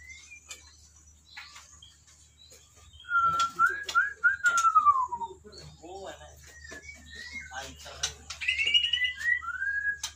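Varied, melodious bird song with fluid whistled phrases and sharp chirps, fairly close, over a low steady hum and faint insect buzzing.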